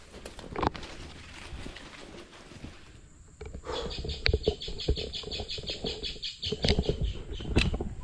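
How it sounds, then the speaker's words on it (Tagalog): A tagkarit bird gives a rapid, repeated chattering alarm call in Philippine jungle, its sharp notes rising over rustling and scattered background noise. "pag nag-ingay ang ibon ng ganyan, ibig sabihin yan may intruder, nagbibigay ng signal siya sa iba pang mga hayop"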